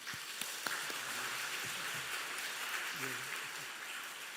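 A church congregation claps to welcome the speaker at a revival service, a faint, distant, continuous patter of many hands that holds evenly throughout.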